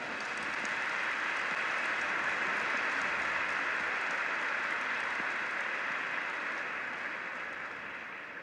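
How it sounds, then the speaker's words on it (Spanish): A large audience at a church gathering for evangelizers and catechists gives Padre Héctor a sustained, dense round of applause, heard at a distance in a reverberant hall and tapering slightly at the end. "le damos un fuerte aplauso nuevamente."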